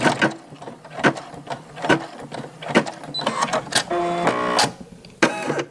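Embroidery machine finishing the last stitches of a mask design on a patch, rhythmic mechanical thumps and whirring bursts at close range, ending with a sustained buzzing run before a final clack.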